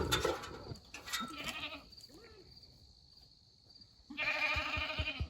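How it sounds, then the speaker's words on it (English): Goats on a farm bleat loudly in drawn-out cries, one near the start and another near the end, with quieter shuffling between. "are these goats pregnant?"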